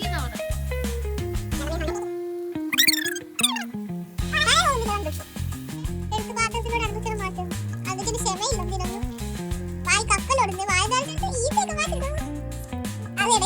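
A cat meows repeatedly in rising and falling cries near sardines frying in a Kerala home kitchen. The meows are close and clear, with people, including a child, talking around them.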